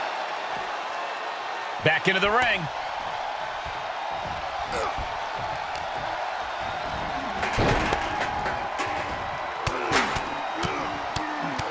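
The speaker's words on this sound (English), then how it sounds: "The sound of this crowd is deafening" A wrestling arena crowd in the WWE 2K24 video game roars in a steady, dense wash of cheering that swells in places, running beneath continuous excited play-by-play commentary.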